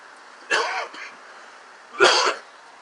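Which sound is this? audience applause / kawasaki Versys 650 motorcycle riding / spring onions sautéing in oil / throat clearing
throat clearing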